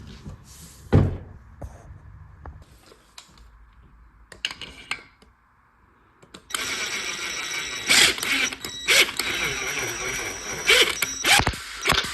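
Valve springs on a Ford modular engine are compressed with a tool, giving metallic clicks and clanks, then a sustained ratcheting, grinding mechanical sequence up close, with faint talk at times.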